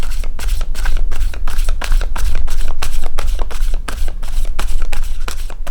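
Tarot cards are shuffled close up in a steady run of loud riffling bursts, one after another with no pauses for talk.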